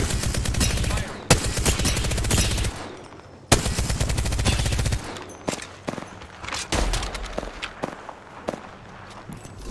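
Automatic gunfire in the battle game Apex Legends, with sustained loud bursts, two sharp reports and then shorter scattered shots, footsteps mixed in between volleys.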